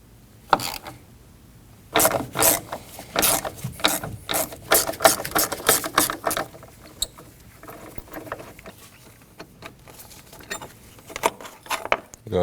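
Ratchet clicking as it backs out an 8mm bolt on the battery tie-down of a 2015-2024 Ford Edge, with bursts of rapid ratcheting, brief pauses between strokes, and close, moderately loud sound.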